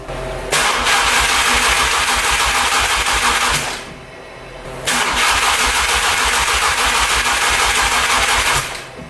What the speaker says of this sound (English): Attempt number 2 to prime the engine.